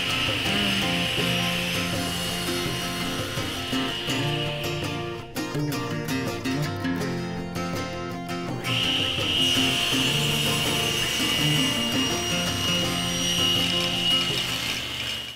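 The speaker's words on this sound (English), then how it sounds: "So I'll first rip this at 2, then flip it over and resaw it at 1/2 inch." A power saw rips and resaws a block of sapele hardwood, a loud continuous whining cut close up, easing during a short pause midway before the blade bites into the wood again, no voices.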